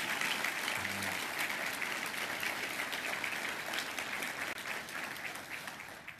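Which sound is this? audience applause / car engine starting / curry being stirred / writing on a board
audience applause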